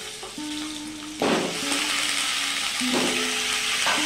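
Hog plums (amra) fry in oil in a pan, sizzling steadily with sudden louder bursts of crackling as pieces shift, plus a faint tonal hum beneath, and no speech.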